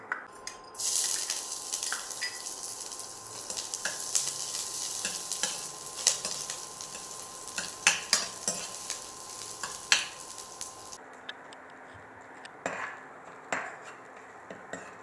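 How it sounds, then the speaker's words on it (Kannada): Crushed garlic and ginger fry in hot oil in a pan, giving a loud, close sizzle with scattered clinks of a spoon. The sound drops abruptly to a quieter crackle and a few taps near the end. "ಇದು ಕ್ರಷ್ ಮಾಡಿರೋ ಗಾರ್ಲಿಕ್ ಮತ್ತು ಜಿಂಜರ್, ಇದನ್ನು ಹಾಕ್ಕೊಳ್ಳೋಣ."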